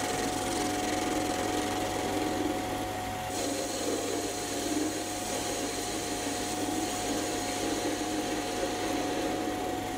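Mini lathe cutting a leftover piece of mild steel for a tailstock insert, a steady close mechanical whir with a gritty scraping texture running continuously throughout, no voices.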